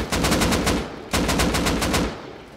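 Automatic gunfire in the survival game Rust comes as two rapid bursts of closely spaced, loud shots, the second starting after a brief pause.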